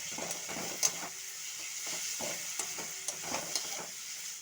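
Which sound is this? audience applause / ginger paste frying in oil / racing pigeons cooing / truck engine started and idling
ginger paste frying in oil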